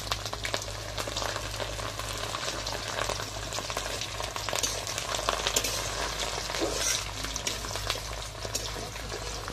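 Sliced ginger and whole garlic cloves fry in hot oil with a steady, busy sizzle and crackle throughout, close up and moderately quiet.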